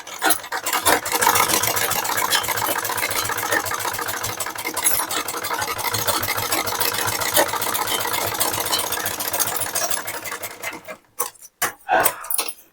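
An electric sewing machine stitches blouse fabric in a steady, fast whirring run lasting about eleven seconds, then stops, followed by a few sharp handling clicks nearby.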